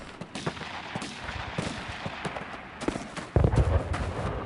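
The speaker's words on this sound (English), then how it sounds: "It's very active with gunshots, explosions, so on and so forth." Video game battlefield ambience: scattered gunshots crack near and far in irregular bursts, with a heavier explosion-like thump toward the end, all over a constant low background rumble.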